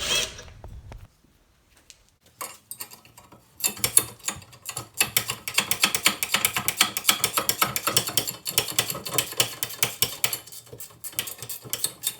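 Rapid ratcheting clicks from a 15mm socket ratchet loosening the collector bolts on a homemade LS turbo log manifold, loud and close, running steadily after a short quiet start.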